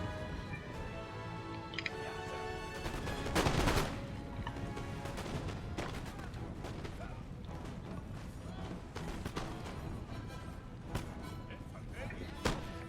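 Musket volleys from elite foot guards in the Napoleonic battle game Total War Napoleon crackle amid continuous battle noise, with scattered shots and one heavier burst, fairly faint overall.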